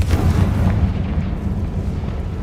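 Confringo fire spell blast in Hogwarts Legacy, a loud booming explosion with a rumbling low-end tail that fades over a couple of seconds, with no talk over it.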